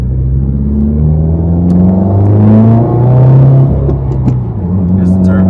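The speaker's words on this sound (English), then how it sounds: "Here's the turbo." A 2019 Subaru WRX's turbocharged engine revs loudly and close, the pitch rising and falling through several steady pulls, with people talking over it.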